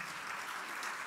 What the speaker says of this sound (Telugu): ఒకసారి పౌలు భక్తునికి చప్పట్లు గట్టి కొడదామా?